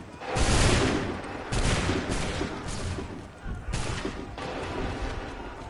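Musket volleys in Assassin's Creed 3 during a barricade battle, several loud broad bursts of massed fire about a second apart, each decaying into rumble under battle noise.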